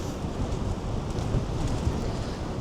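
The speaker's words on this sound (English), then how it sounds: "Oh, that's windy." Strong wind buffets the microphone outdoors on a Blackpool walk, giving a continuous low, rumbling roar that stays loud and steady with no voices.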